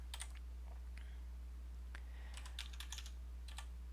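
Keystrokes on a computer keyboard while entering an Emacs command, a light scattering of sharp clicks in small bursts, close and quiet, with a low steady hum underneath and no voices.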